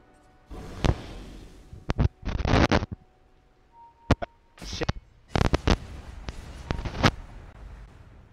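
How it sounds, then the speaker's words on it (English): Flak cannons fire in the Ballistix video game during an esports match, with loud, punchy bursts coming in irregular clusters of sharp blasts amid quieter gaps. "Just making use of those flak cannons to try and gain the advantage."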